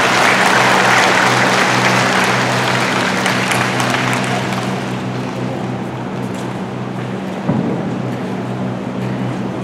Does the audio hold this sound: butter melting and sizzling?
no